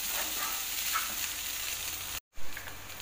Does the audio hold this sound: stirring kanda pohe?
yes